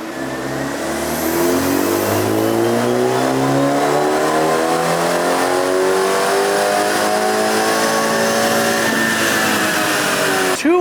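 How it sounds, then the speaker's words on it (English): A BMW 330i with a B48 engine, full bolt-on and running a JB4 map on methanol, revs on a dyno in one long, loud pull whose pitch climbs steadily before cutting off at the end. "it's strapped onto the dyno, let's pick back up where we left off"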